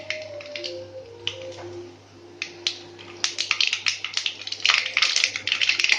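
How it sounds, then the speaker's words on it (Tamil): Sharp crackling pops of mustard seeds sputtering in hot oil, sparse at first then building into a dense, rapid spatter. "எண்ணெய் ஹீட் ஆயிடுச்சு கடுகு போடுறோம்"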